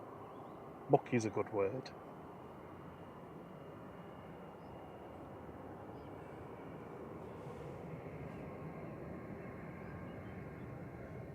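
An Iberia airliner departs for Madrid, a steady low jet roar building gradually in the distance after a brief spoken remark at the start.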